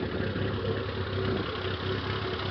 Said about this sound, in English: it idles just fine, no issues whatsoever